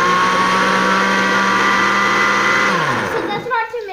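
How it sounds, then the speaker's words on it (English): A blender blending a banana shake whirs loudly and continuously at close range, a dense buzzing motor roar that winds down near the end. "I'm gonna show you how it sounds when I blend"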